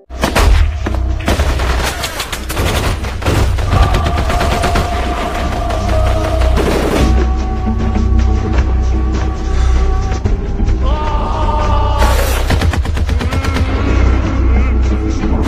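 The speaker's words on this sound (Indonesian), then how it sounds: "Baku tembak tak bisa dihindari." Heavy gunfire in a film: rapid volleys of shots and bursts of automatic fire crackle back and forth, loud and dense throughout with booming impacts and no speech.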